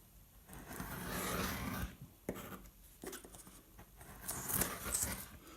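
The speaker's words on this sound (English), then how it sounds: "So just cut that excess bit off there, a little bit more." Scissors or a blade trimming excess paper from a wrapped box frame, giving soft rustling and cutting scrapes with a couple of sharp snips, close by and fairly quiet.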